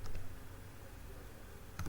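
Quiet computer keyboard typing of a VLAN configuration command: soft scattered key clicks at first, a low murmur, then a short burst of keystrokes at the end.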